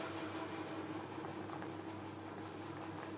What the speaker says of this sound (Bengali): আম সেদ্ধ হওয়া পর্যন্ত অপেক্ষা করব